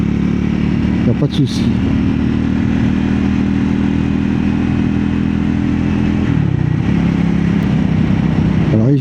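Triumph Scrambler 400X motorcycle accelerating while held in fourth gear, a steady loud engine drone with rising harmonics, a short shift in tone midway, and someone speaking French over it.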